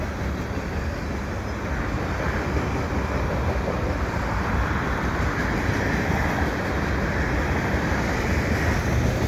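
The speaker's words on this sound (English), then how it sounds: "This is a eastbound CN train at about 2:45 p.m." A steady, heavy rumble of an eastbound CN freight train passing close by, continuous broadband roar with wind-like noise, no talking.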